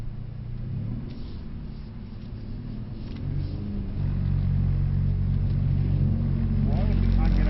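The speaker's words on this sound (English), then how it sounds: "As you drift the car, watch this white line on the inside" A Mercedes C63s engine drones low and steady while the car drifts, the rumble swelling louder and heavier partway through, with brief speech near the end.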